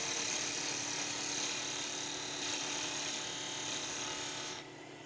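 A wood lathe cuts a tenon on a turned finial, giving a steady whirring hum with a scraping tool edge on the spinning wood, continuous and close, dropping off in the last half second.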